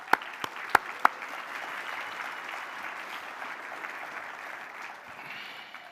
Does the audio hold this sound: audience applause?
yes